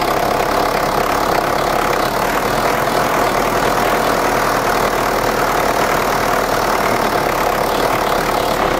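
A Ford Ranger engine with a suspected clogged fuel filter labours loudly and continuously, a rough, strained drone as the throttle is pressed and the fuel is pumped, with no speech over it.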